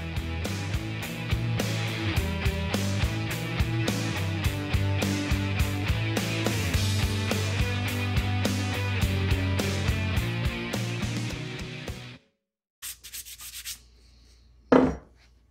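Debris being scraped off a lawn mower blade with a hand tool, rapid repeated rasping strokes, close and loud for about twelve seconds, then a pause and a few final scrapes.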